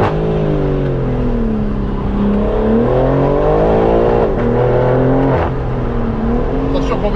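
A BMW M3 engine revs hard and holds near the rev limiter with a steady, loud, close roar and rising and falling pitch, while people talk over it.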